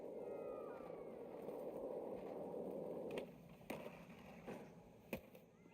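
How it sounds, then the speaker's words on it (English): A faint, meow-like cry rises briefly near the start, nearly buried under a steady wash of skateboarding video game sound, with sharp clicks and thumps from the game later on. "Is that a cat? What is that noise?"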